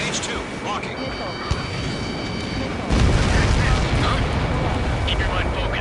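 Missile explosion in the Ace Combat 7 game, with a deep rumbling boom that swells partway through and holds loud over steady jet engine noise, with radio chatter voices.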